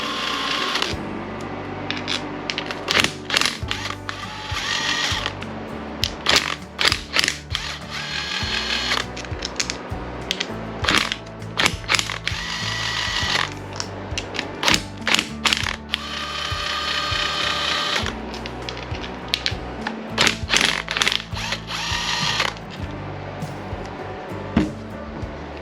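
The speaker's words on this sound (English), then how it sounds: "I'm just going to pull the clutch cover off here." A ratchet is working loose the clutch cover bolts on a Kawasaki KX 85 dirt bike engine during a teardown. Loud, close clicking comes in repeated bursts with short pauses between them.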